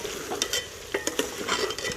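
Spoon stirring beef and chana dal curry in a pan just after garam masala goes in, with soft scraping strokes over a low sizzle of frying, close and steady with a few brighter clinks.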